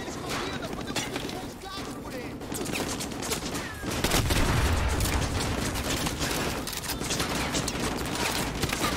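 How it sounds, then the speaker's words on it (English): Sustained bursts of rapid gunfire and explosions in Call of Duty: Modern Warfare 2 Campaign Remastered, on a captured oil rig, dense and continuous, with a heavier boom partway through. "Man, I'm taking some heavy gunfire."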